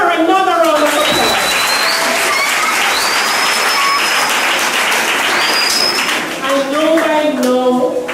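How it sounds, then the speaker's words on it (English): Audience at a Cedar Valley school event giving a round of applause, loud and sustained clapping with a voice talking over it at the start and end. "Give her another round of applause."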